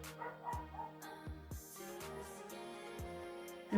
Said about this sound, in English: the neighbor's dogs are barking.